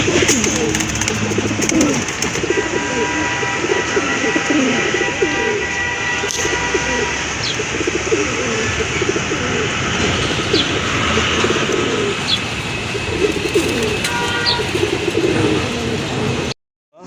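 Snake-eyed pigeons with feathered feet coo in soft, repeated rolling calls amid a dense, loud background of market bustle and chatter, with a few sharp chirps scattered through.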